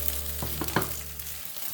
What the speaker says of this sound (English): The garlic will start to sizzle.